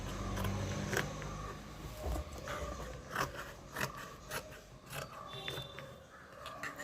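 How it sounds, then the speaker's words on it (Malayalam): Scissors snip through fabric being cut for a churidar-style nightie, a series of close, crisp cutting crunches and clicks spaced unevenly over several seconds, with no talking. "ഇനി നമുക്ക് ഇതിനകത്തുള്ള തുണി കട്ട് ചെയ്ത് കൊടുക്കാം"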